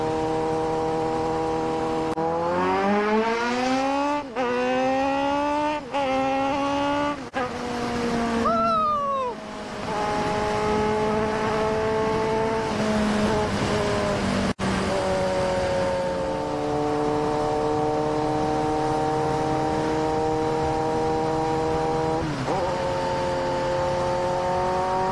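A Kawasaki Z900 motorcycle engine is heard while riding, close and steady. It revs up through several gear changes in rising, sweeping pitches, then settles into a sustained cruising drone for about twenty-five seconds, with no talk.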